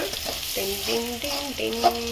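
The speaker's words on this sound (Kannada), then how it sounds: "ಈರುಳ್ಳಿ, ಒಗ್ಗರಣೆನ ಚೆನ್ನಾಗಿ ಹುರ್ಕೋಬೇಕು." Onions sizzle and crackle in a tempering in a hot pan while voices talk over the steady frying hiss.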